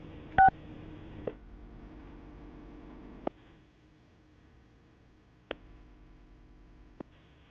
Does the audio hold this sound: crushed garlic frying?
no